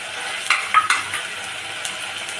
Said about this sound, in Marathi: आता मी यात टाकते लाल तिखट, गरम मसाला